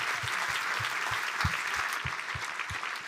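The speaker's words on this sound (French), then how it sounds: "You can give them a hand." An audience gives a round of applause at a church afternoon gathering with a round table, steady sustained clapping at moderate volume with no talking over it.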